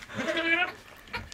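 A goat bleats in a barn during a difficult kidding, a wavering nasal cry lasting about half a second, followed by a shorter second call, up close and moderately loud.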